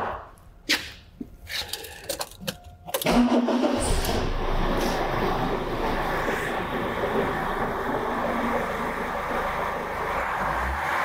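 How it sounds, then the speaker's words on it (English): A car engine cranks with a few short starter bursts and then catches, settling into a steady, loud idle that runs for the rest of the time, close by, during a guided common-rail diesel rail pressure sensor test. "and start the engine."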